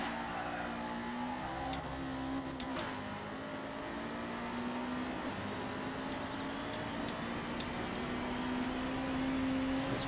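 Race car engines of a Honda Prelude and a Mazda RX-7 in Forza Motorsport drone steadily and loudly throughout, with a sustained engine tone that rises and falls slightly as the cars hold speed, and no talking.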